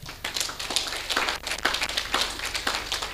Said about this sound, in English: help me to clap hands for the Secretariat